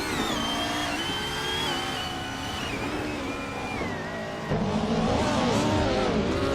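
Race cars in a racing video game roar along in a close battle for position, a steady layered engine drone with shifting pitch that jumps louder near the end, no voices.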